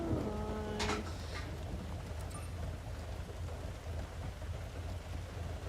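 Rain in the Forza Horizon racing game makes a steady, even hiss with a low rumble beneath, fairly faint. A brief tonal chime sounds at the start.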